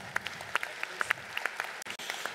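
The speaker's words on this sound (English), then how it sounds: "so let's give a round of applause to Caroline." Audience applause at a brewery event unveiling a new beer, a short burst of scattered hand claps from a moderate-sized crowd, fairly close and steady for a couple of seconds.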